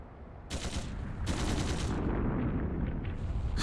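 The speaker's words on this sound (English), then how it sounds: "Gunshots! From the next district!" Bursts of rapid gunfire in the video game Trails through Daybreak II crackle loudly in quick succession, blending into a continuous roar of shooting with no voices.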